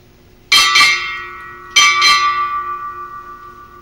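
A ship's bell rings four times in two quick pairs at a Navy change of command ceremony, each strike bright and metallic, with the tone ringing on and slowly fading after the last pair.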